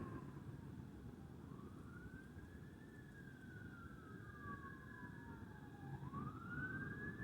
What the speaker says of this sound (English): as you heard the sirens in the background